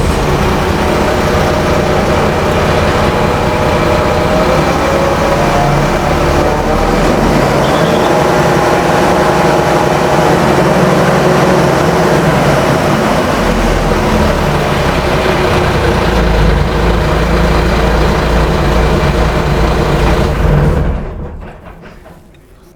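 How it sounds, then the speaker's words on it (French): The engine of a World War I replica tank runs loud and steady from close inside the cramped hull, a continuous heavy rumble that drops away abruptly at the end. "Alors je vais vous démarrer le moteur"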